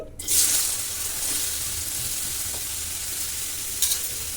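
Thinly sliced cucumber pieces hitting hot oil in a pan, a loud burst of sizzling that settles into a steady crackling fry, with a brief stir near the end.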